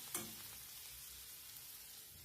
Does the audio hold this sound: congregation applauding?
no